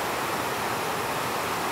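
Heavy rain drums steadily on a metal roof, a dense, loud, unbroken hiss and patter with no pauses.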